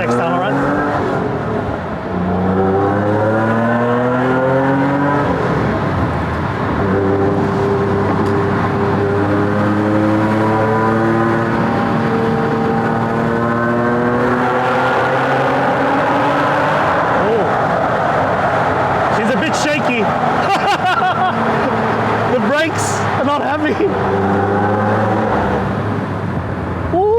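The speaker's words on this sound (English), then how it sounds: "we're ready for our first NSX tunnel run." A widebody Honda NSX sports car engine revs up and down repeatedly, roaring and echoing in a tunnel, with gear changes and voices heard faintly beneath.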